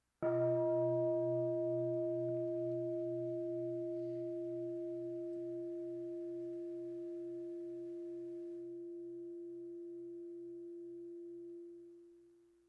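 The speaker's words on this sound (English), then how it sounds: "Let us enjoy one sound of the bell." A single struck meditation bell rings once, a clear sustained tone with a gentle wavering hum that slowly decays over about twelve seconds in near silence.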